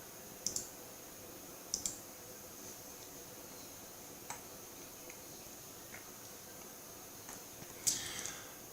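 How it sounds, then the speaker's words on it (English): Computer mouse buttons click faintly in a quiet room while drafting in AutoCAD 2022, a few sparse, crisp single clicks spaced seconds apart, the last one slightly louder. "left mouse click, bring it straight down, left mouse click"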